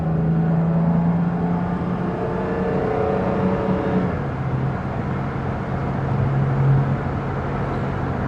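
A 1965 Jaguar S-Type with a three-speed gearbox cruising at about 60 mph and 2,500 rpm on an open road, its steady engine drone and road rumble continuous from inside the cabin, with no one speaking.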